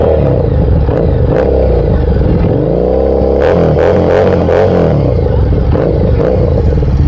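A Harley 750 with a Screaming Eagle exhaust idles with a loud, deep rumble up close, then revs sharply in several bursts before dropping back to idle.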